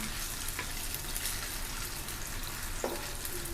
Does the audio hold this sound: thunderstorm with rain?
no